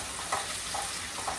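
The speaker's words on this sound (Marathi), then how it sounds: "आता टोमॅटो पण छान असे परतून घ्यायचे आहेत" Tomatoes are sautéed in a hot pan, a constant close sizzle broken by three soft stirring scrapes at regular intervals.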